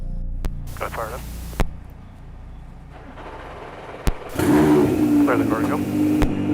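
A race car engine fires up and builds into a loud rumbling rev, with brief radio-style voices breaking in before and during it.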